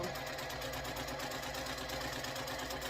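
Domestic sewing machine stitching a quilt block, a steady mechanical whir with rapid even needle rhythm running continuously at moderate level, no talk over it.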